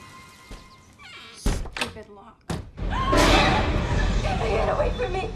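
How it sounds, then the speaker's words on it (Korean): In a horror film, a bedroom door is carefully opened in a house after a noise upstairs: a couple of heavy wooden thunks and a thud, and then a loud swell of tense, rumbling score washes in over them. "집으로 돌아온 몰리는 위층에서 들린 소리에 조심스레 방문을 열어보는데"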